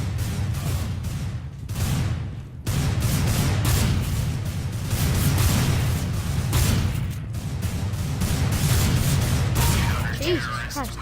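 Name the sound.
grenade explosion in the video game CS:GO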